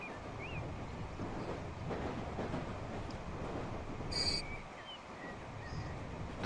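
A continuous rumbling of a Metropolitan line train rolling along rails toward Chesham in the game Transport Fever 2, with a brief high squeal partway through and soft wind-like noise over the steady clatter.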